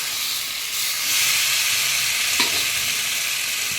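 Potatoes and pointed gourd frying in hot oil with spices, a steady dense sizzle that runs throughout, near and fairly loud, with one faint clink of a utensil partway through and no voices.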